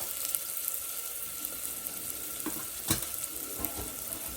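Onions frying with a pinch of salt in a pan for aloo matar, a faint steady hiss with a handful of light spatula scrapes and clinks, close but quiet, no voices.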